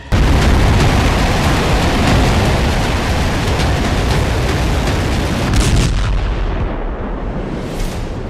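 Heavy, continuous rumble of missile strikes and explosions from Iran's attack on Israel, dense booming and roar that fills the whole stretch, easing and thinning toward the end.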